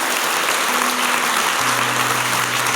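A church congregation applauds together, a dense, steady wash of many hands clapping at close range, sustained throughout without pause.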